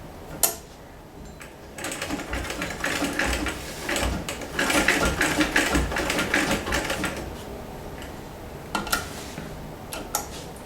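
A restored vintage Singer 206K sewing machine stitches through heavy denim with a close, rapid mechanical clatter that builds to a sustained run. Brief ticks and clicks frame the run at the start and end.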